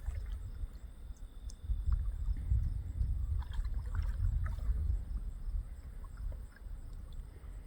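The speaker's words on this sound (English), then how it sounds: "It's only my voice and the sound of her oar on the boat and in the water." A kayak oar dips and knocks against the boat while paddling on a calm pond, giving soft splashes and low thuds close to the microphone, with a faint breeze and no talking.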